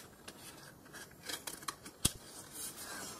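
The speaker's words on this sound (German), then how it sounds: "Und diese wird von hier oben noch weggeschnitten" Scissors snip through paper card while a business card box is being cut out: a few quick, close crisp cuts, the last one sharpest, with no talking.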